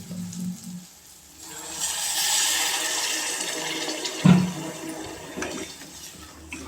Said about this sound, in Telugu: బీరకాయ ముక్కలు వేసాను. కొన్ని వాటర్ పోసేసి